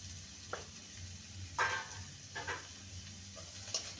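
Tomatoes with salt and turmeric are stirred in a frying pan: a few short, separate scraping strokes over a quiet low hum in the kitchen.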